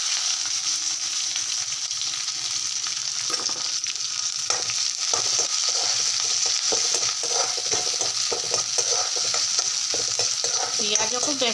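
Onion frying in a pan with dried chilli, a continuous close sizzle with scattered crackles and pops and occasional stirring scrapes, fairly loud and steady throughout.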